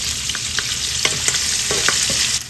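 Pork skin frying in hot oil for Filipino mung bean stew, a loud, close, continuous crackling sizzle with scattered pops and a few stirring clinks, ending in a slight drop.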